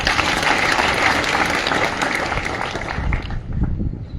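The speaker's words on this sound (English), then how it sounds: "and they deserve a hand clap." An audience at a political fundraising address claps steadily in a dense, even round of applause for about four seconds before it begins to thin.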